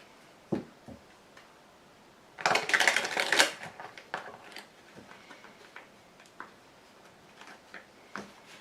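Tarot cards being shuffled and laid out on a table, heard as a burst of riffling flutter followed by scattered light taps and clicks as cards are placed, close and moderately loud; no talking.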